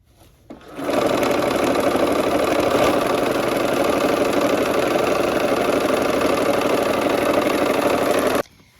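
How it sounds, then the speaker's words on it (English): A sewing machine stitches a quilt seam with a scant quarter-inch allowance, starting after a brief pause and running at a steady, fast whirring hum for about seven seconds before stopping, close and alone. "I'm gonna go ahead and sew this seam. I've got my needle down. I'm using a scant 1/4 inch here"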